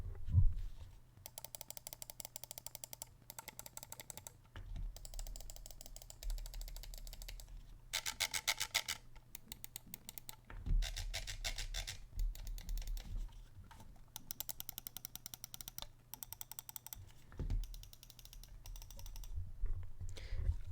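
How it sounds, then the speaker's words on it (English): Left and right buttons of a Zowie S2 computer mouse with Huano switches click repeatedly in close, crisp bursts, with short pauses between groups of rapid clicks. "here's a sound test of the buttons. Right and left click."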